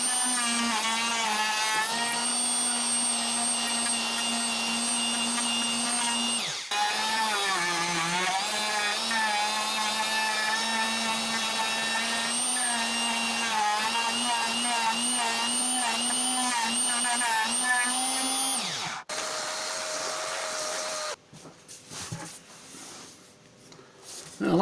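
A power tool whines steadily and loudly while carving a guitar neck heel down to depth, its pitch dipping as the cut bites, then it cuts out near the end, leaving handling noises.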